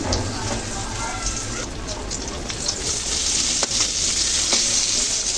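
Brinjal slices fry in hot oil in a wok, giving a steady, dense sizzle that runs the whole time with a few brief crackles, while a voice talks over it.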